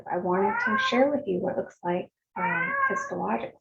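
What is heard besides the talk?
cat meowing in the background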